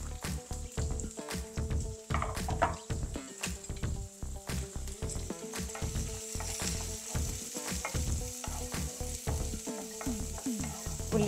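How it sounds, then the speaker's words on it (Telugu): Sliced onion and green chillies frying in a pan for a soya kheema curry, giving a continuous close sizzle with rhythmic stirring scrapes of a spoon throughout. "ఉల్లిపాయ, పచ్చిమిర్చి ఇవన్నీ వేసి మంచి కలర్ వచ్చే వరకు వేయించుకోవాలి."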